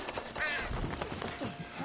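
Several blackbirds give harsh, crow-like caws, a few distinct calls close together in a dense, noisy outdoor setting.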